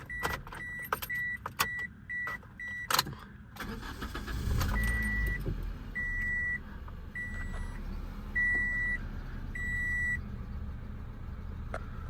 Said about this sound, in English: then we'll go ahead and fire it up